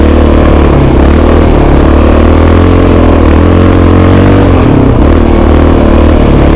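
A Yamaha Raptor 700 ATV engine roars very loud and close as it rides off through snow, a continuous throaty drone with a brief dip and rise in pitch partway through.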